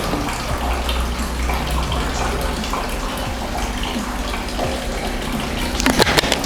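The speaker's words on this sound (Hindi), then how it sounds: "ये चलिए डाल देता हूँ किनले" Kinley bottled water pours out in a continuous gushing stream during an alkaline water demonstration. The splashing stays steady throughout, and a brief clatter comes near the end.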